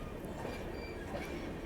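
Puri–Shalimar train pulling into platform 8 of a station at night, a steady low rumble of rolling rail cars filling the short stretch at moderate, even loudness.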